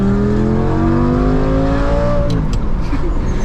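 A Lamborghini engine revs loudly and close, its pitch climbing steadily before dropping sharply as a gear shifts, then growling on at lower revs.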